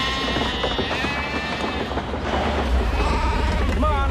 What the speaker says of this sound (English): What the hell are these sheep doing here?